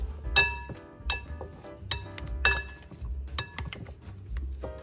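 Boiled potatoes mashed in a bowl: a masher repeatedly strikes the bowl with bright clinking knocks, about one every second, over dull thuds.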